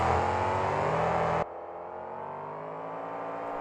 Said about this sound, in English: because Huxley's been fast with this brand new Moving Violation truck he debuted this year.